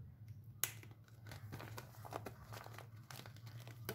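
A crystal-clear plastic mask pouch crinkles softly as it is folded, with one sharper crackle early and a continuous rustle after, close but quiet, over a low steady hum.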